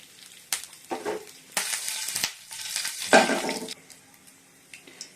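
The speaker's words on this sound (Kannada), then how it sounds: "ಇವಾಗ ಎಣ್ಣೆ ಕಾದಿದೆ. ಸಾಸಿವೆ ಹಾಕ್ತಾ ಇದ್ದೀನಿ, ಕರಿಬೇವು," Mustard seeds, curry leaves and dried chillies hit hot oil in a pan, giving close bursts of sizzling and crackling that flare, fade and flare again over a few seconds, with no voice.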